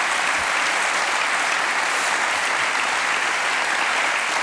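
Steady, dense applause from a television studio audience fills the whole stretch, a loud even wash of many hands clapping with no pauses or voices on top.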